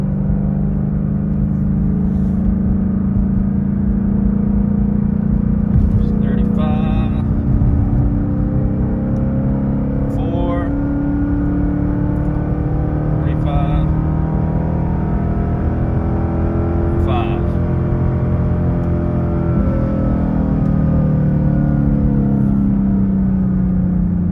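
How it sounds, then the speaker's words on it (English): A Ford Mustang GT S550 engine runs in second gear and climbs slowly toward higher revs, a loud, steady droning rumble with gradually rising pitch that holds unbroken throughout, with no talking. "Second gear. And we'll slowly creep it up to 5000."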